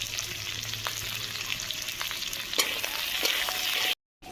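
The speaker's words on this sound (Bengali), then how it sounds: "আলু ভাজা হচ্ছে, তার ফাঁকে আমি আদা বেটে নেব।" Potato pieces frying in oil in a pan hiss with a steady, close sizzle, broken by a couple of light utensil taps, before cutting to a moment of silence near the end.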